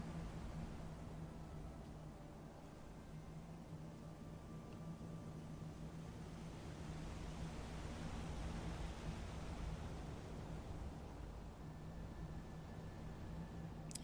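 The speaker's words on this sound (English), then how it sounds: "natural waterfalls is really nice" A steady waterfall rush in the heavily modded video game Skyrim, a faint, even broadband roar with a low hum beneath it, continuous throughout without voices.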